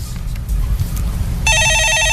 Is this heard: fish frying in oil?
no